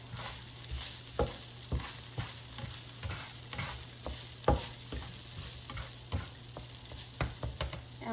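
Leeks fry and sizzle softly in a pan while a utensil stirs them, giving irregular scraping taps over a constant quiet hiss.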